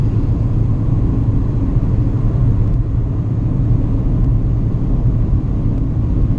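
Steady low road rumble and engine drone from inside a 2019 Proton Persona driving on a test track, a constant loud hum with no talk.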